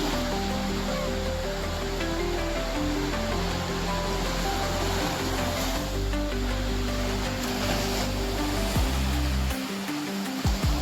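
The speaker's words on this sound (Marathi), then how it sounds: "लाटा पण येतात मध्येच" Sea waves wash continuously in a broad roar on the Konkan coast, with a steady fishing-boat engine drone underneath and no speech.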